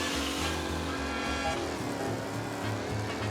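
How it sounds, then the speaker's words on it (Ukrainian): Racing car engine roaring in the Mafia Definitive Edition video game, a loud, continuous, rough drone with shifting low tones, sustained throughout with no speech. "Оце реве мотор, двигун, та ти що?"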